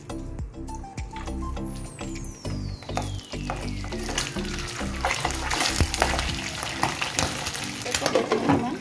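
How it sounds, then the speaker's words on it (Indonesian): Chicken for Balinese spiced chicken sizzles and crackles in hot oil, a dense, steady frying hiss with occasional clinks of stirring, growing louder toward the end. "Kita goreng ya teman-teman ayamnya."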